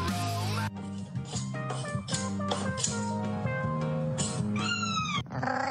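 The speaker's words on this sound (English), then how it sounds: "Real emo cat." Cat meowing in a series of drawn-out, whiny, emotional cries, close and loud, with rising and falling wails and no talk over it.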